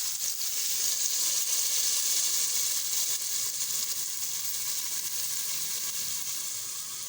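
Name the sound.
tomato masala frying in oil for chickpea curry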